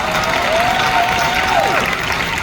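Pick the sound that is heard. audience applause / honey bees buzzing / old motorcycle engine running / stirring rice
audience applause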